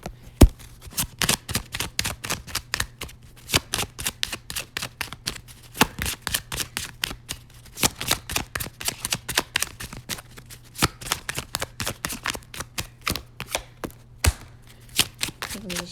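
Rapid crisp riffling of tarot cards being shuffled over and over, dense bursts of flicking snaps with a steady low hum underneath.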